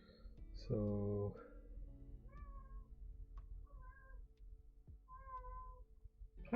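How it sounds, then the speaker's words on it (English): A house cat meows several times indoors, one louder low meow followed by three softer, higher meows spaced a second or so apart, over a quiet room with faint background noise. "I don't know if y'all can hear that or not, but there's a kitty boy over there."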